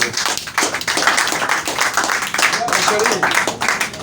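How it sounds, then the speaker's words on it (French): A group claps at a church or prophetic gathering, quick uneven bursts of hand claps mixed with crowd noise and voices, loud and close, rising and falling across the few seconds. "Vraiment, il faut applaudir."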